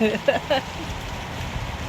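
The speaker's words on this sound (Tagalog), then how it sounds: "Lakas ng ulan." Steady, dense rain hisses on a surface, with a brief voice at the start before the downpour continues alone.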